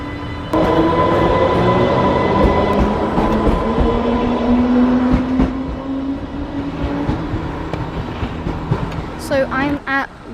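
An Island Line train at Ryde St John's Road station, with a steady close rumble and rising motor whine throughout, and brief higher chirping tones near the end.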